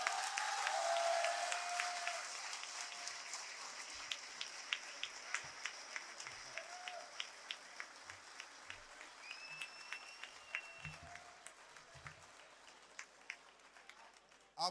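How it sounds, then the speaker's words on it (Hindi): An audience at an Urdu poetry mushaira in Lahore applauds to welcome a poet, a sustained wash of clapping that gradually thins out into scattered claps, with a voice speaking briefly over it. "तालियों की गूंज रुकनी नहीं चाहिए"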